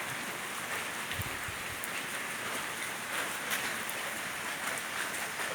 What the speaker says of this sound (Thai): ฝนตกทั้งวันทั้งคืนเลยนะครับ